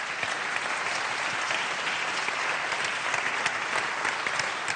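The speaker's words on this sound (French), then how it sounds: "sous les applaudissements, s'il vous plaît." Sustained applause from an audience at a national awards ceremony as a trophy is handed over, steady dense clapping that fills the room throughout without pause.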